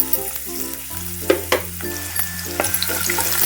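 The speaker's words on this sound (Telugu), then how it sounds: "ఇప్పుడైతే సన్నగా కట్ చేసి పెట్టుకున్న ఉల్లిపాయలు వేసుకోవాలి." Thinly sliced onions hit hot oil in a pan for egg keema rice, giving a loud, steady sizzle with stirring clatter and scraping sounds close by.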